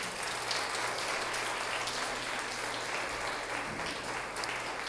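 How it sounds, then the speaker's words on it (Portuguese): Church congregation clapping together during a worship service, a steady even wash of applause filling the whole moment, moderately loud and without talk. "Vamos aplaudir o Senhor"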